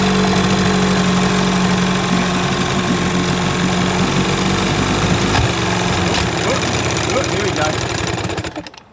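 An old Evinrude outboard motor runs steadily and loudly close by, a continuous rough engine drone with knocking texture that holds throughout and cuts out right at the end.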